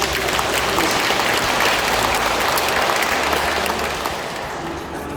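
Sustained applause from an audience at an evening training lecture for church lay group officers, dense steady clapping filling the room throughout and easing slightly near the end.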